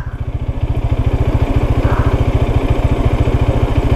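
A motorcycle engine runs steadily at close range with a fast, even thumping pulse and a low rumble, on a rough, dangerous road toward Bicol, with no talking.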